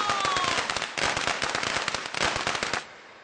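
A rapid string of firecrackers pops and crackles densely for about three seconds, loud and close, then cuts off into a faint fading hiss.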